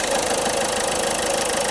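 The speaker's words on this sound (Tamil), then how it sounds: "இன்ஜின் ஸ்டார்ட் பண்ணி பார்ப்போம் இப்போ இன்ஜின் ரன் ஆகிட்டுருக்கு" A Ford Figo Titanium diesel engine idles steadily at close range, giving a continuous, even knocking rumble with no other sounds on top.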